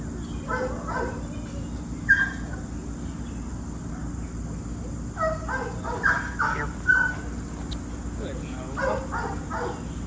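A boxer mix dog at an outdoor retriever training session gives short bursts of barking and whimpering at a distance, in several clusters, over a steady bed of crickets and insects.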